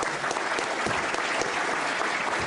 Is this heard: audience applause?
yes